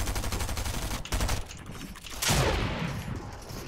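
Rapid bursts of gunfire during a competitive trio match in a video game, dense overlapping shots running throughout with a louder burst near the end.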